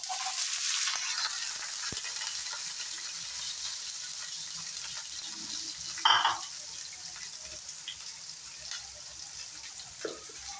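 Chopped large onion frying in oil with ajwain gives a soft, steady sizzle that fades after a loud initial hiss, with a few clattering stirs and a brief splash, and no talking.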